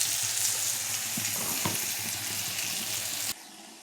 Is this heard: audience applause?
no